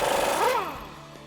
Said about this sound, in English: I've got my 15/16 on my impact gun.